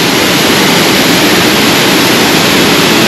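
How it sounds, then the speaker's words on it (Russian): Waterfall at Aul Tkhagabsh near Lazarevskoye, Sochi, heard up close as a loud, unbroken roar of rushing water that stays steady throughout. "Вот такой вот красивейший водопад"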